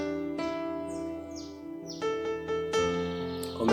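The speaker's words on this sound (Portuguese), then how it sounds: "acordar ao som desses pássaros que cantam e que nos trazem tanta alegria" Morning birds sing in short repeated whistled phrases and chirps over a sustained tonal background, moderately loud and close, with no talking.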